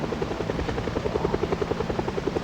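A helicopter in the zombie survival game Project Zomboid passes overhead, its steady rotor chop beating in a fast, even rhythm and holding loud and constant throughout, with no voices.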